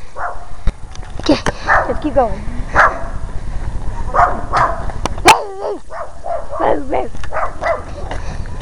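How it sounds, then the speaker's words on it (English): A puppy in an alleyway gives several short, high yips and barks at irregular intervals, fairly close, while people talk over it. "Puppy back there. It's a puppy dog."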